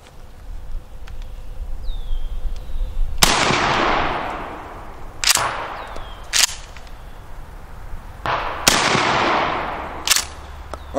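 A Trench Broom shotgun fires at a target downrange outdoors: about six sharp, loud blasts, irregularly spaced, some following closely on each other, each trailing off in a brief echoing decay.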